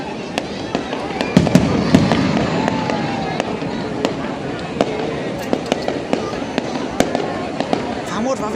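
Fireworks for Vietnam's 2 September 2025 National Day display, a steady run of sharp bursts and crackles popping at close to middle distance over a dense, continuous rumble, with people talking nearby.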